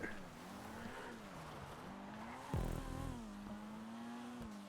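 A car spinning out during a GTA Online race, the engine note wavering up and down before a brief tire squeal and skid, followed by the motor revving on again, with no voices.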